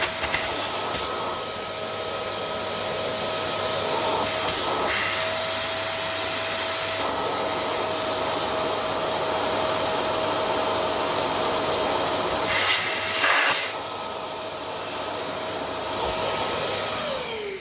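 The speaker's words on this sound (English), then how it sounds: "We'll hit our hoover again." A vacuum cleaner sucks dirt out of a part on a 1954 Ferguson 20 TEF diesel tractor, a steady, loud whining drone that runs unbroken for about seventeen seconds with no talking.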